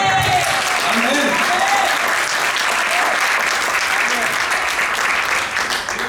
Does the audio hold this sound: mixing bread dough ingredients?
no